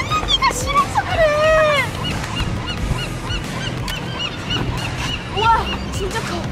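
Seagulls calling outdoors, with several loud, close, descending squawks in the first two seconds, then scattered fainter cries over a constant wash of wind or surf noise.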